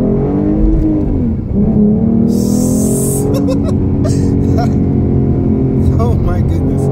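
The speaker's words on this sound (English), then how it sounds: "I'm gonna go this way and do another first gear pull downhill" A V6 Mustang with an MPT tune pulls hard in first gear downhill, its engine note climbing steadily as it revs, loud and close from inside the car.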